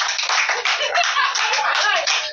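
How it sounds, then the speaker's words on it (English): A school audience claps for a speaker, a close burst of brisk, uneven handclaps running steadily throughout. "So are you clapping for me?"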